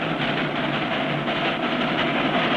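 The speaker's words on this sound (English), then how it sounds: "Why not take the train? She's got up steam." A cartoon steam train under way: dense, loud, continuous rumbling hiss with a steady rolling rhythm, heard alone without voices.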